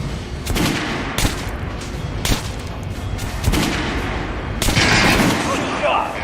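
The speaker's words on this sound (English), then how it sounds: "Try shooting for the center of the regular dummy chest." Repeated gunfire at a training dummy on a shooting range in Metro: Last Light, a few loud sharp shots spaced irregularly over a dense, noisy game backdrop.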